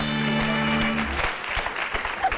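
Studio audience at a late-night television show breaks into scattered clapping after a held musical tone fades, with the claps sparse and uneven.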